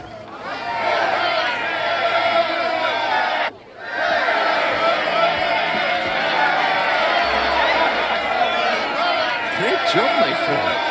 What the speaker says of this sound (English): Enjoy the crowd's reaction